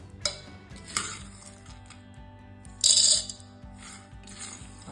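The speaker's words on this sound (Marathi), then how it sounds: "आता हे मिक्सरला ब्लेंड करून घेऊया." A kitchen mixer blends roasted, crisp pumpkin seeds for chutney in several short pulses. Each burst brings a gritty rattle and whir, with clinking and a steady low mechanical hum between bursts.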